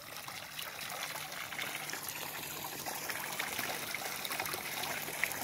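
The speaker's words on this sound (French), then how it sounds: "Je vais vous faire voir la belle petite rivière." A small decorative river on a model railway layout trickles steadily, a soft continuous wash of running water with no voices over it.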